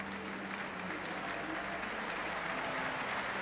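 Thousands of spectators at the London 2012 Paralympic track cycling cheer and applaud cyclists in a dense, continuous wash of clapping that fills the arena, with a commentator's voice faintly underneath.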